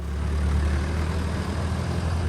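A John Deere 6600 tractor with a 110 hp engine pulling away with its front frame hitch secured, a steady low diesel rumble close by.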